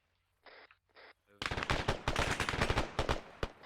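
Machine gun fire in a military video game: after two short muffled bursts, a loud sustained stream of rapid automatic shots erupts close by, dense and continuous with heavy thumping reports.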